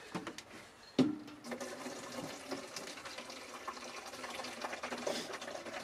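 Water is poured out of a jug in a camper van, a steady splashing, gurgling pour that begins with a sharp knock and runs continuously, fairly close, with no talking.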